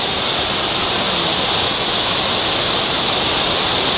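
A waterfall in Catanduanes pours in a dense, constant roar of rushing water, loud and close with no pauses or voices over it.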